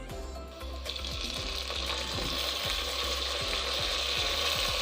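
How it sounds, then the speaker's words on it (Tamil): Green chillies and mint frying in a pan as part of a paneer pulao, a steady close sizzle with scattered crackles and clinks that builds slightly over a few seconds, with no talking. "புதினா ஆட் பண்ண பிறகு நல்லா ஃப்ரை பண்ணிக்கோங்க."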